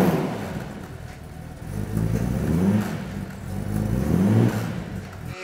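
Aston Martin DB4 GT Zagato engine revving in two rising surges, a throaty mid-range growl that swells and eases, fairly close and loud with no talk over it.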